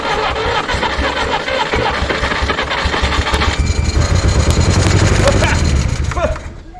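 A 1964 Jeep CJ-5 engine that sat in a barn for 30 years, fed a two-stroke fuel mix, runs rough and loud up close, a dense rumbling roar that holds steady and then fades, with voices talking over it.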